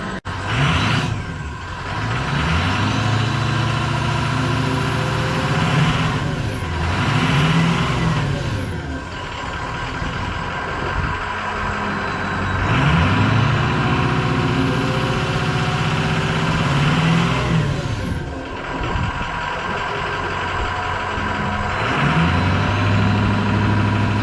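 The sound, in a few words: 6.0 Powerstroke diesel truck revving, stock exhaust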